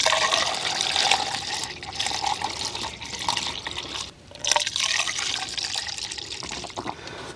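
Pre-diluted coolant pours steadily into a 2006 Acura MDX, a continuous close liquid gush with a brief dip partway through, no talking.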